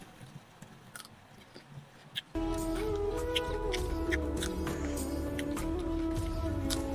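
Someone crunches and chews salted cucumber slices up close, with a few sharp bites at first. Then a steady, continuous tonal backdrop sets in under the ongoing chewing.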